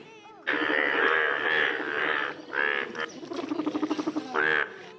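Close, loud croaking calls repeat in long harmonic bursts, broken by a fast rattling trill near the end.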